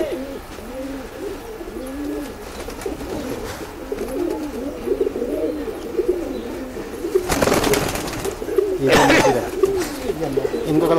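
Pigeons, including amber-headed birds, cooing in repeated soft rolling calls close by, with a couple of brief rustling bursts like wing flaps toward the end.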